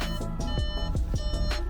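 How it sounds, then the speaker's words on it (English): An Audi Q3 (8U) in reverse sounds its parking sensor at a nearby obstacle: a quick series of about five or six electronic beeps at a steady rhythm, fairly faint over a low background hum. "There are some things very close to the car, so it's basically beeping."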